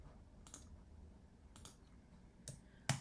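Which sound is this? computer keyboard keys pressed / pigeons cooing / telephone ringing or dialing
computer keyboard keys pressed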